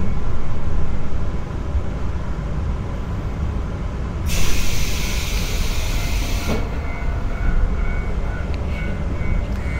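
Inside a moving train bound for Otaru in Hokkaido, Japan, a loud continuous rumble of wheels and carriage fills the space, broken midway by a sharp hiss of air release lasting a couple of seconds.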